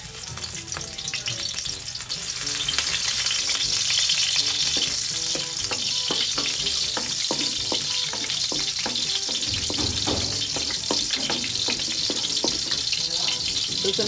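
Garlic crackles and sizzles loudly in a hot pan, a dense steady frying hiss with scattered pops and spatters that swells after the first couple of seconds and holds strong throughout, no voices.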